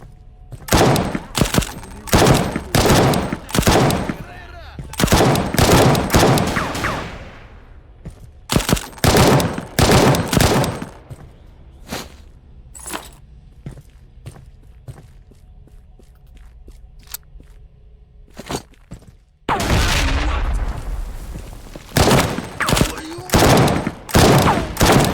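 Repeated bursts of rapid gunfire in the VR shooter Z.O.N.A Project X, loud and close, in clustered volleys separated by short lulls with faint footsteps and clunks in between.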